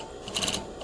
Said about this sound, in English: as you feed your fabric through the sewing machine, it will gather up the amount of shirring or gathers